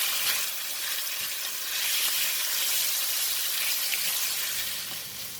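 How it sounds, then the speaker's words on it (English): Pork stir-frying in a pan with browned garlic gives a steady, close sizzle with broad hiss, holding even for several seconds before easing slightly at the end, with no talking. "I'm going to put in the pork. And we're going to stir fry."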